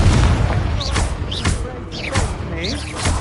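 Spell explosions from the Confringo fire curse in the Hogwarts Legacy video game, loud booming blasts and thuds repeated across the clip, dense and close, with a voice shouting over the combat.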